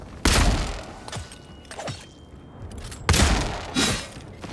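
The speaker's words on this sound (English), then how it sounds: "hitting those guys with some grenades" Grenade explosions in the video game Avowed: two loud, sharp blasts about three seconds apart, each trailing into rumbling debris, with smaller crashing bursts between them.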